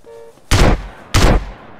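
Two loud, sharp gunshots in GTA San Andreas ring out about half a second apart, each with a quick decaying boom, no voices.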